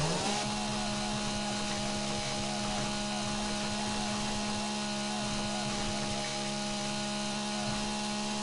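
In the video game 7 Days to Die, a chainsaw cuts up wood in a steady, loud whining buzz that holds without a break, close by.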